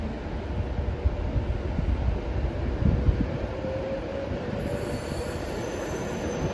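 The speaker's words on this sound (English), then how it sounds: "Heading out now, we have a Pendolino bound for London Euston." A Pendolino bound for London Euston pulls out of Carlisle station with a loud, steady rumble of wheels and a sustained high squeal, constant throughout with no voices.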